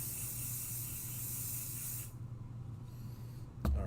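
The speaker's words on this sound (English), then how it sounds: "Put on my pixie spray." Pixie spray misted from a pump bottle while making a Halloween card, a steady close hiss lasting about two seconds, then quiet room tone and a short spritz at the end.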